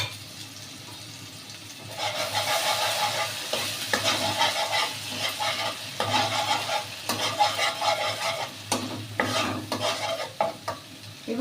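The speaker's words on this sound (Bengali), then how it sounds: "সর্ষেটা। একদম লো ফ্লেমে রাখতে হবে।" Mustard seeds sizzle softly in a pan over a low flame, with a quiet steady fry broken by scraping and stirring sounds and a few light clinks of the utensil against the pan.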